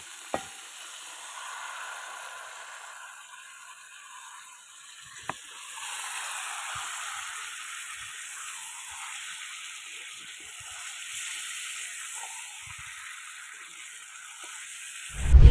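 Small river fish, ghagra and tengra catfish, fry in hot oil in a pan, giving a steady, fairly quiet hiss of sizzling, broken by a few sharp clinks and stirring taps.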